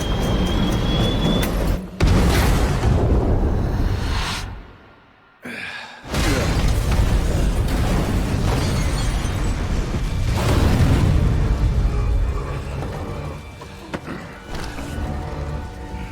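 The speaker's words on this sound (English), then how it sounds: "Many flashbangs." Flashbang explosions in the video game Evil West burst loudly in a dense series of booms, dropping briefly to near silence before the blasts resume and fade toward the end.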